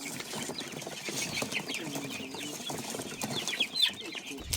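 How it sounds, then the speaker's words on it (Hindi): Chickens clucking and flapping as a batch of 100 is handed out to villagers, their busy calls and wing flutters mixed with background chatter and movement outdoors. "ये 100 मुर्गियाँ यहाँ पर हमने पहुँचा दी हैं।"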